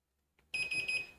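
A continuity tester beeps in quick pulsed bursts, three short shrill tones in a row, while probing motor hub wires on an e-bike planetary gear hub, after a faint click in near silence.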